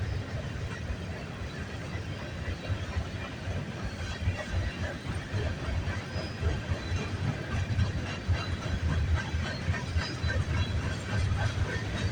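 A CN freight train rolls past at milepost 23 on the York Subdivision near Snider, its cars giving a steady, continuous low rumble with faint rail clatter throughout, close and unbroken with no talk.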